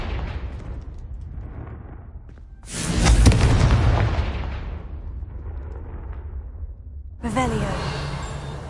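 A Confringo fire spell detonates in Hogwarts Legacy on PS4, a loud booming blast with a sustained roar that fades over a couple of seconds, followed later by a second sharp burst, over a low ambient game rumble.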